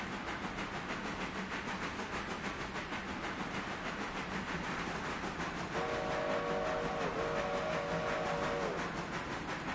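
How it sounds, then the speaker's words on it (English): A freight train's whistle sounds in the video game Railroader, a 1,500-ton train climbing a grade toward a bridge. A steady mid-level rumble and hiss runs throughout, and a sustained whistle enters partway through and holds for about three seconds. "Blowing the whistle just because I can."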